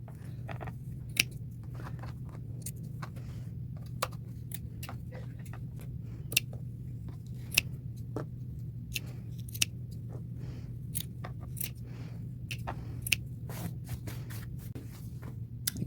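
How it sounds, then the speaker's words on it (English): Scissors snip strips out of old denim jeans, a long run of sharp, irregular clicks and crunches over a steady low hum, close and fairly quiet. "I'll be cutting most of these little strips out of here."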